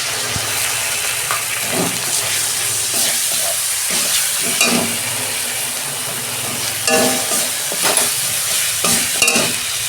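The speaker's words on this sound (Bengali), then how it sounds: "আমি ভালো করে আদা রসুনটা একটু কষতে নেব।" Ginger and garlic paste fries in a hot pan with a steady close sizzle, broken by repeated scraping stirs of a spoon against the pan every second or two, with no one speaking.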